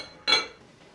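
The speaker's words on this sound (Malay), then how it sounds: "Tutup periuk dengan penutup." A lid is set on a cooking pot of chicken soup, giving one short, light metallic clink that quickly fades into quiet.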